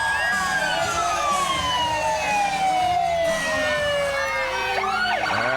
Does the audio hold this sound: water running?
no